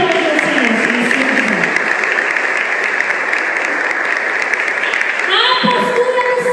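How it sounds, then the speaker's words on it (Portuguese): A church congregation applauds during a Portuguese-language sermon, with steady, loud clapping throughout and some tonal sound from the service faintly underneath. "Pode aplaudir o Senhor."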